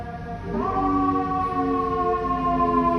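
A steady, loud wailing siren with a sustained tone that rises briefly then holds, continuous throughout with no voices.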